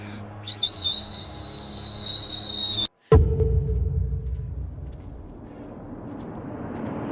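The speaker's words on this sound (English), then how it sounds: "That's the Pompey family's death whistle." A high, shrill whistle signal blown as a family's death whistle in an ancient village, one long sustained tone that breaks off abruptly, then a sharp crack and a low rumbling aftermath, loud and close.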